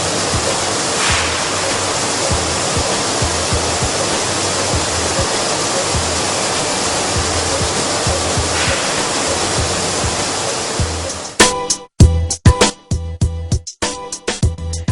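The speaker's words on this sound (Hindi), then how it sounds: "इस सिस्टम में गेहूं को साफ पानी से धोया जाता है" In a flour mill, a wheat washing system rinses grain with clean water, making a loud, steady rush like a waterfall. Near the end the rush breaks off into choppy, uneven bursts.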